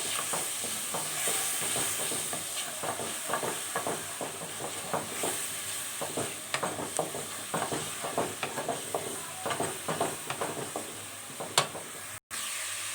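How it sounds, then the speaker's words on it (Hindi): Garlic ginger paste sautéing in hot oil, a steady loud sizzle and hiss with frequent scraping stirs of a spoon in the pan, continuous and close, no voices. "इसमें हम लहसुन अदरक का पेस्ट ऐड कर देते हैं और लहसुन अदरक को सौते कर लेंगे,"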